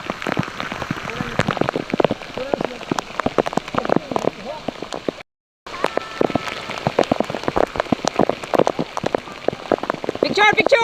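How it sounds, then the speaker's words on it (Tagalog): Rain patters steadily and densely on surfaces near a lagoon's underground river, close and constant, briefly cutting out midway, with voices faintly talking beneath it. "While raining."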